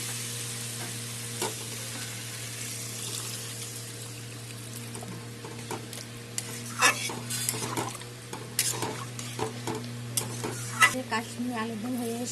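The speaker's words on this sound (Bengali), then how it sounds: "এখন জল দিয়ে দিব।" Water is poured into a pot of frying Kashmiri aloo dum, giving a steady low sizzle and bubbling along with clinks and scrapes of a spoon against the pot, close and moderately quiet.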